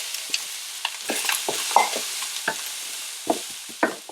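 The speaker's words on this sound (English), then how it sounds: "warm the olive oil in a pan and add the onions. Saute these until they are soft." Chopped onions softening in warm olive oil in a pan, with a low sizzle under scattered stirring clicks and scrapes through the stretch, moderately close and without voices.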